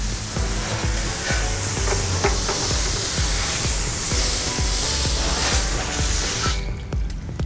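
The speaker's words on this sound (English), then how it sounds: "I can rinse off all this residue as well" A car wheel being rinsed of sticky citrus wheel gel residue after brake dust cleaning, a loud steady hiss of spraying water splashing on the rim, continuous for several seconds before cutting off near the end.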